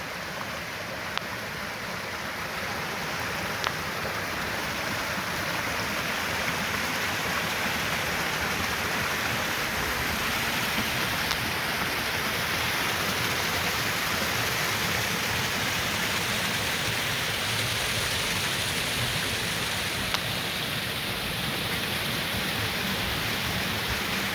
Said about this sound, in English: There's several waterfalls and pools on the way down.